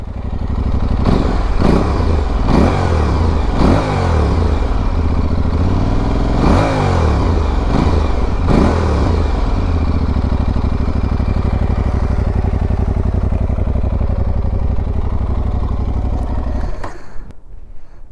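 An Aprilia Tuareg 660 motorcycle from 2022 on its stock exhaust idles loudly up close, with a series of sharp throttle blips rising and falling before the engine settles and cuts off near the end.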